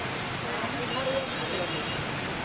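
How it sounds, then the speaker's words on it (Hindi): Heavy rain falls in Bhubaneswar with a steady, dense hiss, moderately quiet and continuous, while a person talks over it. "बहुत जोर वर्षा हो"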